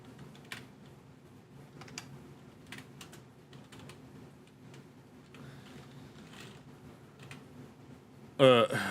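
Fingers tap a computer keyboard in scattered light clicks beneath a voice speaking throughout, quiet and close, ending with a brief louder burst of noise.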